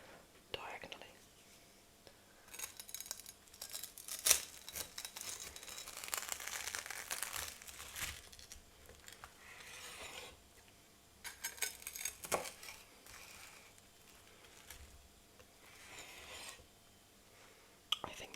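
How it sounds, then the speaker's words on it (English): A knife cuts diagonally through a festive sandwich, soft close-up rasping and crunching strokes coming in bursts, with quiet whispering and faint rustling between cuts. "So I'm going to take my knife and try to do the best job I can in cutting this diagonally."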